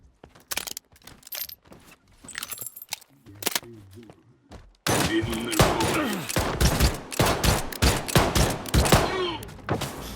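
Rapid bursts of gunfire in the video game S.T.A.L.K.E.R. 2, loud and close, firing in quick volleys with brief pauses, a voice occasionally talking in between.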